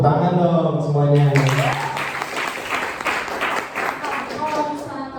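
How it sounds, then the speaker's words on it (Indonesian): At a public speaking seminar, a speaker's voice gives way to a loud burst of audience applause, dense clapping that carries on steadily with some voices mixed in beneath it. "Sekali lagi tepuk tangan dong semuanya."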